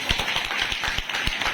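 An audience claps at a gathering of students, a steady, dense run of many hands clapping together at a quick, even pace with no voices over it.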